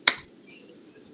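One sharp, short clap from a teacher's hands during an online class session, a single crisp hit followed by quiet room tone.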